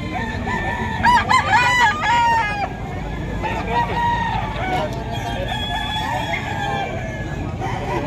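Roosters crow repeatedly among clucking chickens at a crowded pre-dawn pet market in Bocaue, Bulacan, with loud calls up front and a steady low murmur of crowd noise underneath.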